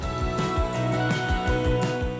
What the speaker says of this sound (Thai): อ๋ออันนี้มันเป็นนวัตกรรม ไล่นกพิราบค่ะ เป็นเสียงไล่นกพิราบ